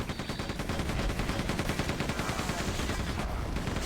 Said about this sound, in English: how effective the machine gun is in Quake